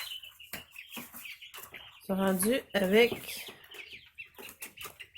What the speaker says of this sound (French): nos petits poulets, nos petites poules, le nouveau cheptel de poules plus rustiques